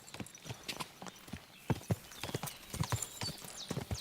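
Horse hooves clip-clop in a medieval battle video game, a fast irregular patter of fairly close hoof strikes over a faint background, with no voices.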